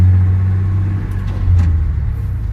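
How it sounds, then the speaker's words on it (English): A 1993 Ford F250 truck idles after an ECM replacement, a loud, steady low engine rumble up close with a slight dip and swell in level partway through. "Got my truck running."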